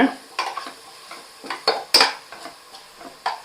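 A spoon scrapes and knocks against a metal pot as onion and green chilli paste is stirred into masala for Dindigul mutton biryani, giving a series of irregular clinks and scrapes over a faint sizzle.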